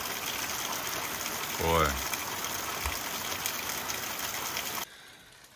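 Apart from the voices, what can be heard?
heavy rain falling outdoors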